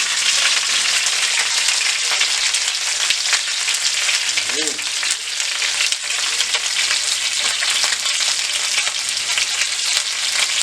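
Chicken frying in butter for a spicy chicken dish, a dense, loud, continuous sizzle and crackle heard up close with occasional stirring.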